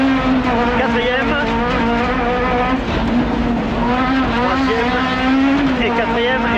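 A Renault Clio Maxi race car engine drones loud and close, its pitch wavering as the car works up through the gears.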